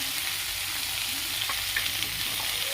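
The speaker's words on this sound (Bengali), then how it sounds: "আমি গোটা গরম মশলা, পেঁয়াজ আর রসুন, কাঁচা লঙ্কা, মটরশুঁটিটা ভালো করে ভেজে নিচ্ছি" Whole spices, onion, garlic, green chili, peas and tomato fry in a pan with a dense, continuous sizzle close up. Faint stirring scrapes occasionally surface through the crackle.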